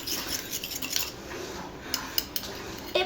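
Ingredients are stirred and mixed in a kitchen pot, with soft scraping and a few light metallic clinks of a spoon against the pot over a quiet room.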